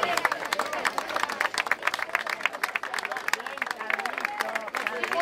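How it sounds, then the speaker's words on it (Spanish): Outdoor crowd clapping at the 2012 Maratón del Inmigrante awards ceremony as runners are announced, brisk uneven applause with lively chatter and voices mixed through it. "un fuerte aplauso."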